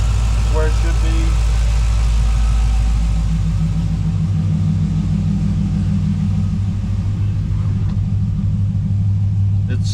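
A deep, steady LS V8 engine idle at about 700 RPM in a Squarebody Chevrolet truck rumbles close by for the whole stretch, a low even throb with a faint sense of speech underneath.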